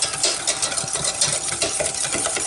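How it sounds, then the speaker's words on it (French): Egg whites and sugar whisked over heat in a pan for coconut rochers, a steady close scraping and stirring rattle of whisk against metal that continues throughout without talk. "on est sur le feu avec les blancs d'œuf et le sucre. Et on va chauffer le mélange en battant"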